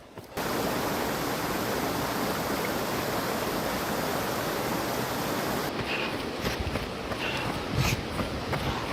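Mountain stream on the Salkantay Trek, flowing as a steady, dense broadband rush of water that fills the whole clip, close and constant with faint scattered knocks toward the end.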